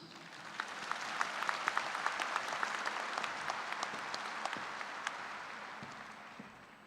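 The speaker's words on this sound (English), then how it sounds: "Please join me in another round of applause for these outstanding leaders." An audience at a 2022 Manhattan High School graduation ceremony gives a sustained round of applause, a moderately distant wash of clapping with individual sharp claps standing out, swelling briefly and then slowly fading.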